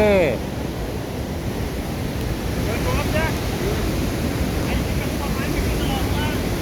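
Niagara Falls roars as a steady, loud broadband wash of falling water heard up close, with wind buffeting the microphone throughout and no clear voices.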